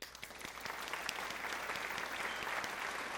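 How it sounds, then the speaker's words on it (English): A short round of applause, a small group clapping steadily and fairly quietly for about three seconds, with no talking over it. "Let me go ahead and give my props to my little round of applause."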